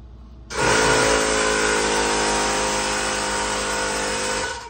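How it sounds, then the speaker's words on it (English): An air compressor kicks on abruptly and runs loud and steady close by, a broad motor roar with a buzzing hum that holds for several seconds before tapering slightly at the end. "Pardon, that's my compressor."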